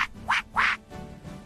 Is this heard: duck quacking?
yes